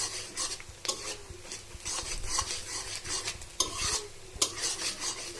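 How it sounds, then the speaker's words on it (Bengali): Eggs scramble in a hot pan for noodles, crumbling as a spatula scrapes and stirs them in repeated rasping strokes over a low sizzle, with occasional sharper scrapes against the pan. "ডিমগুলো খুব ভালোভাবে ভেজে নেওয়া হয়ে গেছে"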